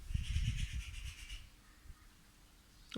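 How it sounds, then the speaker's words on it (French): A crow caws in a rapid repeated series, muffled and distant outside a window, alongside close rubbing and handling noises. "désolé si vous entendez le bruit du corbeau, de l'oiseau dehors"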